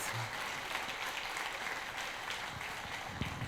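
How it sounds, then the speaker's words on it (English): Audience applause at a panel meetup, a steady wash of many hands clapping throughout, moderately distant and even in level with no pauses. "With a round of your applause, and thanks to all the teams that worked so hard for all these projects."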